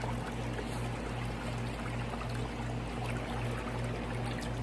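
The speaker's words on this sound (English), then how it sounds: "So that's water straight off the hose" Cold water runs straight from a garden hose into a cold plunge tub in a backyard on a chilly 41-degree day, making a steady, continuous rushing pour with a low hum beneath and no talking.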